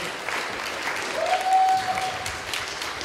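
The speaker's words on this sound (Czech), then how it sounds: "S potleskem, výborně, děkuju za odvahu." Audience applause at a marketing conference talk, a steady wash of clapping from a crowd filling the whole stretch, moderately loud, with a faint tone briefly audible in the middle.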